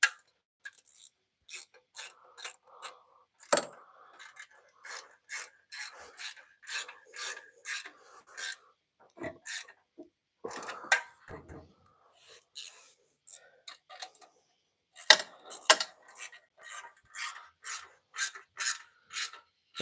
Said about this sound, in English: Let's get this tightened down so we don't have anything that's loose.